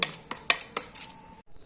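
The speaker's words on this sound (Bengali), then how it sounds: "এবার এটাই আমি ভালো করে মিশিয়ে নেব।" Eggs being mixed with salt in a bowl, a utensil clinking and tapping against the bowl in quick irregular strikes, close and bright, then stopping.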